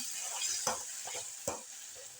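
Thick gravy bubbling and sizzling in a pan, with occasional scraping stirs and soft pops, close up.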